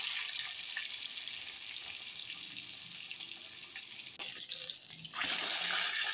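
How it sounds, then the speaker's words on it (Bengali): Pieces of fish fry in oil in a pan, a steady close sizzle that dips briefly and then rises louder near the end, with no voices. "সব মাছগুলো আমি ভেজে নিই"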